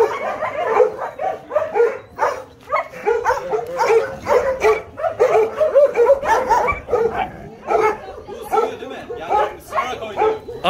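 A young pitbull barking, yipping and whimpering excitedly in a home with visiting guests, with rapid, uneven bursts that rise and fall close by, mixed with voices in the background.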